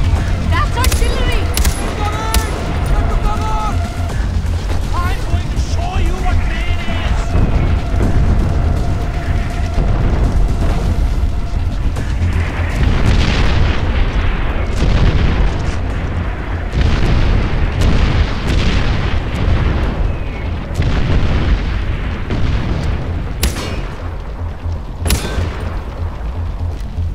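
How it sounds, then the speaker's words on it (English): Artillery shelling in the video game Far Cry 4, a loud continuous barrage of booming explosions and rumbling blasts lasting the whole stretch, with characters shouting over it. "artillery incoming. Artillery? Get to cover! That's artillery!"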